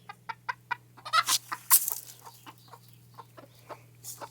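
An old hen clucks close by in a series of short, rhythmic clucks, with a few louder squawks in the middle, no talking.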